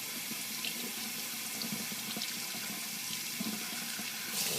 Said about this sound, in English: So let's run water through